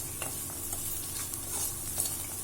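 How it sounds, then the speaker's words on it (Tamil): Okra rice being sautéed and stirred in a pan, with a steady soft sizzle and scattered scraping strokes of a utensil, moderately close and without any talk. "ஒரு ரெண்டு நிமிஷம் நம்ம வந்து நல்லா இப்படி வதக்கிக்கலாம்"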